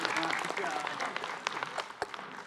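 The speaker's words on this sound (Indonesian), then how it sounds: "Tepuk tangan dong Bu." Studio audience at an Islamic talk show breaks into lively applause, dense close clapping with sharp individual claps, fading somewhat toward the end, with a few voices mixed in.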